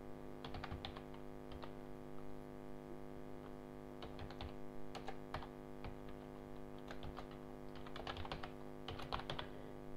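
Faint typing on a computer keyboard while entering an email address, irregular clusters of soft key clicks with pauses between, under a steady low hum and no voices.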